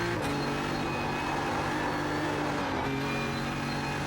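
GT3 race car in iRacing at Bathurst, a loud continuous engine drone that drops in pitch as the throttle is lifted, heard alone.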